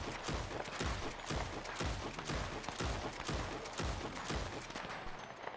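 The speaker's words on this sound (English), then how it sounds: "let's shoot some more and see how he performs when we shoot a lot of the guns" A rapid series of gunshots in Red Dead Redemption 2, about a dozen evenly spaced loud cracks firing in a steady rhythm with no talking.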